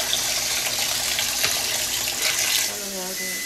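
A kitchen or bathroom tap runs while something is washed under cold water, a steady close splashing gush with clattering and a brief shift in the stream near the end; a voice talks over it.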